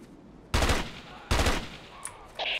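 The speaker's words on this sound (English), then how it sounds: "They're shooting." Gunfire in the 2001 tactical shooter Ghost Recon: two loud, broad bursts of rapid shots about a second apart, each lasting a fraction of a second, followed by fainter clicks and a short high-pitched tone.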